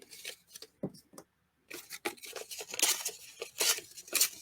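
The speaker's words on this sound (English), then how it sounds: "ripping off another piece of that green from the bottom of the gift bag that we had" Paper is torn from the bottom of a green gift bag in several sharp, close ripping bursts separated by brief pauses, with faint rustling handling between them.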